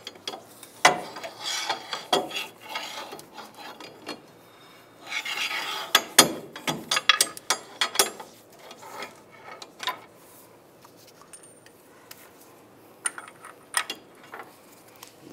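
Ratcheting and grinding mechanical clicks as the axle nut on a 1999-2005 Volkswagen Jetta is loosened, irregular bursts of metallic rasping with scattered sharp ticks, close and fairly loud, no talk.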